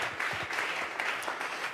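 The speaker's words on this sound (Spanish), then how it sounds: "Vamos a regalarle ofrenda de palmas al Dios de la gloria." A church congregation claps together during a Spanish-language sermon, a steady wash of applause filling the room at moderate distance, with no voice heard over it.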